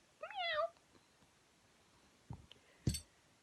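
A cat gives one short, rising-and-falling meow near the start, followed by a few faint soft knocks and a brief clatter against a quiet background.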